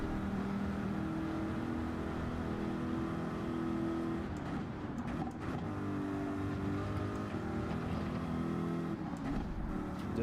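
A Bugatti Veyron race car engine in Gran Turismo 7 drones steadily through a rainy race, its tone rising and falling with shifts and throttle changes, heard continuously with no voice over it.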